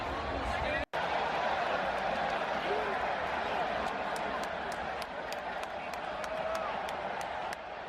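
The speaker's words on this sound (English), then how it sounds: "All the fans applaud, chant Messi, Messi" A packed stadium crowd at an Inter Miami match applauds and chants for Lionel Messi, a continuous wash of clapping and cheering with scattered claps popping out, while a voice talks over it.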